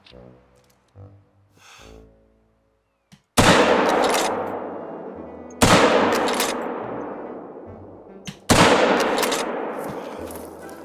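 Rifle shots fired at bison in the hunting game The Hunter: Call of the Wild, three loud sharp blasts a couple of seconds apart, each with a long echoing decay, after some brief quieter sounds.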